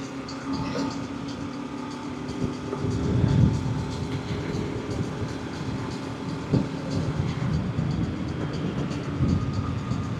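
Strong wind roars continuously with low rumbling buffeting and gusts swelling, mixed with the steady engine drone of a Bajaj Pulsar RS200 motorcycle being ridden, loud and close.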